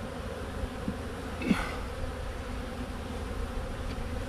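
Honeybees from a captured swarm buzz steadily around hive frames at close range, a dense continuous drone with one brief louder pass of a bee near the microphone.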